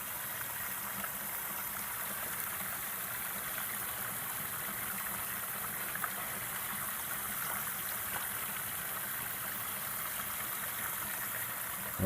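Water rushing steadily through a backyard sluice box used for gold recovery, a constant close hiss and gurgle with no pauses.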